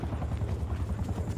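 A helicopter in the video game Black Ops Cold War thrums overhead with a continuous, loud, low rotor chop that pulses steadily throughout.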